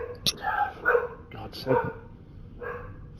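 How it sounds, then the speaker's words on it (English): A dog barks several times in short sharp bursts nearby, mixed in with someone talking, against a low background hum. "Sorry about the dog, guys."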